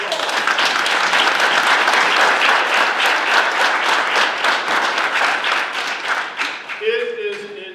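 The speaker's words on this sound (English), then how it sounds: "Let's give him another round of applause." Sustained audience applause for the American Legion National Commander at a veterans' district gathering, dense and steady clapping that fades near the end as a voice begins to speak.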